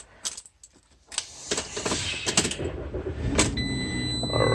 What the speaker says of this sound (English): Jump in here, turn on this vehicle